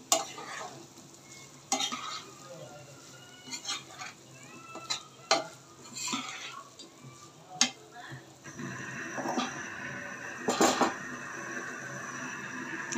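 Vegetables being stirred into fried spices in a pan for a thin hilsa fish curry, with a soft sizzle under scattered scrapes and clinks of a utensil against the pot.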